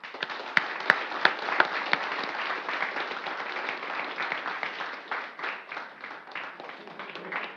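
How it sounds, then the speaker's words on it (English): A conference audience at XDC 2019, the X.org developers' gathering, breaks into sustained applause, dense clapping holding steady for several seconds with a few sharp individual claps standing out near the start. "I'd say a huge applause for to Collabora"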